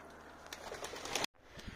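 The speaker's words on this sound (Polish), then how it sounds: "Gołąbki rozpadowe dotarły na miejsce swojego gołębniczka" Breeding pigeons coo softly in a loft, low murmuring calls repeating over a quiet background, broken by a brief dropout and a faint rustle near the end.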